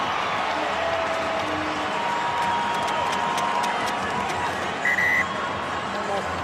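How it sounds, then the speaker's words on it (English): A rugby crowd at a South Africa versus Japan Rugby World Cup match cheers and applauds after a successful kick, a broad, sustained roar with a brief whistle-like tone partway through. "there's celebrations from the crowd wearing the Springbok replica jerseys"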